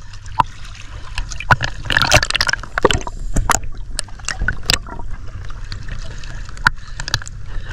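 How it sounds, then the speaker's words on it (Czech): Underwater bubbling from breathing out through a snorkel while diving in a shark pool, heard as irregular gurgling bursts and watery splashes over a steady low background. "skloň se do vody, podívej se do vody a začni bublat."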